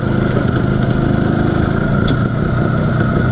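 Close and loud, the IZh Planeta 5 motorcycle's engine keeps idling evenly with a fresh crankshaft seal, its low throbbing drone steady throughout and no voices over it.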